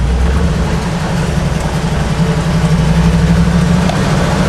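A Chevrolet Blazer that pops out of third gear drives slowly through a residential neighborhood, its engine a steady low rumble heard from inside the cab, constant and unbroken with no talking.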